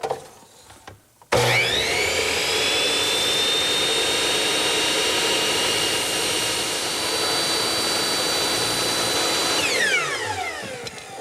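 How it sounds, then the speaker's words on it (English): Miter saw cutting a small block of wood held against the fence, a loud high motor whine that spins up abruptly, runs steadily through the cut for several seconds, then winds down. "what I like to do is take my miter saw, put a block of wood against the fence"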